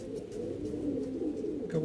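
Pigeons, including a black-beaked male of a striped Malawi pigeon pair kept at home, coo in a low continuous throaty burble, close and steady throughout, ending with a slightly louder call.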